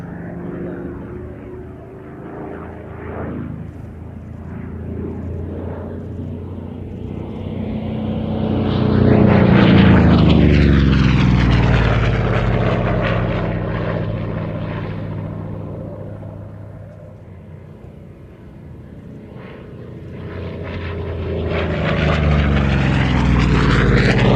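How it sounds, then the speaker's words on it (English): A Goodyear-built Corsair's propeller engine roars and drones, swelling to a loud pass near the middle and building again at the end, with a sustained rumble throughout. "this is actually a license-built version of the Corsair, built by the Goodyear Corporation."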